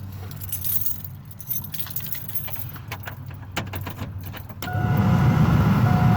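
A 1999 Chevy Silverado's AC/heater blower motor on its highest setting, number 5, kicks in after some clicking and rattling and then roars as a loud, steady rushing of air.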